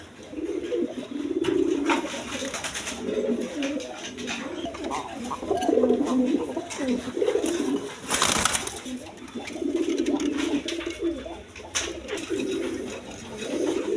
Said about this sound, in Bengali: এইখানে এক পেয়ার হাই ফ্লাই টাইগার কালারের মধ্যে রাজশাহী গিরিবাস কবুতর বলে